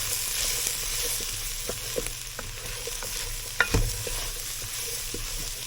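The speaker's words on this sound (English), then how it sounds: "we're going to stir for just a couple of minutes and get this toasted up" White rice stirred and toasted in a hot pan for jambalaya, giving a steady sizzle with soft scraping strokes and a sharper knock of the utensil near the middle, close and with no talking.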